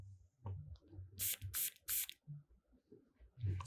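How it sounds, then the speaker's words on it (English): A perfume atomizer sprays fine mist onto skin in three quick hissing bursts, close and crisp, over a soft low background rumble. "So the atomizer, what I see is like it's more of like a very fine mist"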